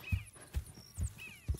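Horses in Red Dead Redemption 2 plod along with regular, close clip-clop hoofbeats, four soft thuds in quick rhythm over faint outdoor ambience with thin high birdlike chirps.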